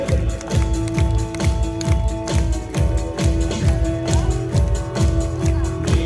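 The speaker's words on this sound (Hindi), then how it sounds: "ताली बजाते हुए" At an evening prayer meeting in Pragati Maidan, Manendragarh, a crowd claps steadily in time with a devotional song, with sharp regular hand claps over sustained singing and music.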